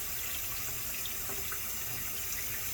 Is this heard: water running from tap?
yes